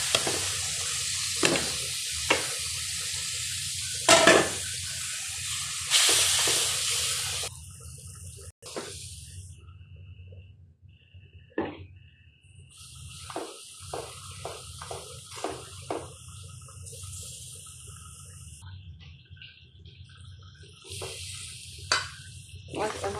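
Sea fish sautéing in a pan with salt, chilli powder, turmeric and mixed spices, with a steady sizzle broken by stirring scrapes and clinks, plus brief water sounds and quieter gaps.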